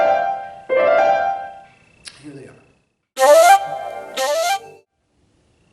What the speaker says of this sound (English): One of the tapes contains 2 brief flurries on the flute